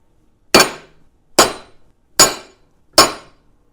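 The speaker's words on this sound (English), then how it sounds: "we'll take a punch and punch all these right in the center." Four sharp metal-on-metal hammer blows on a punch, striking center marks into a steel plate for a 1987-96 Dodge Dakota brake booster delete, evenly spaced about a second apart, close and loud with no talking.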